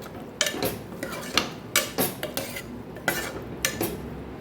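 A spoon stirs Kathiyawadi-style cluster bean and potato curry in a metal pan, scraping and clinking at an uneven pace, close up, with about a dozen sharp strokes.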